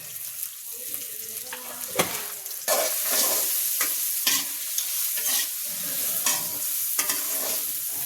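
Turmeric powder and salt going into something frying in a pan for a thin winter khichuri, with sizzling and repeated stirring scrapes over a steady hiss, close and fairly loud.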